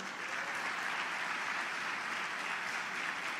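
Church audience applauding during a sermon, a dense, even wash of many hands clapping, steady and moderately distant for the whole stretch.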